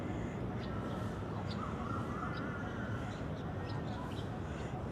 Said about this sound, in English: I'm sure hear a lot of crows.